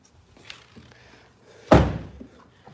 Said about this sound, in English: Pop the gas door the old-fashioned way.